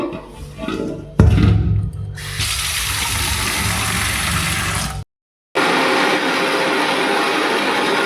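Tap water runs steadily, filling a mixer grinder jar for grinding onion and green chilli paste in a home kitchen, with a brief gap mid-flow before the stream resumes, loud and close.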